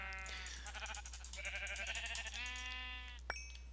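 Several blocky sheep in Minecraft bleat one after another in a quick wavering series, fairly close and clear over a low steady hum, with a short click near the end.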